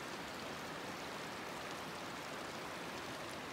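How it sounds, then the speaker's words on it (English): Steady broadband rushing of a large cascade waterfall on the Skyline trail in Jasper National Park, a constant even roar heard from a distance with no other sounds. "you've got a really big cascade waterfall up there"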